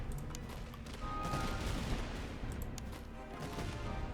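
Musket volleys crackle in a Master of Command battle, dense overlapping shots from massed infantry forming a sustained rattling fusillade at moderate distance, fairly quiet overall.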